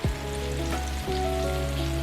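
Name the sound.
shrimp frying in a pan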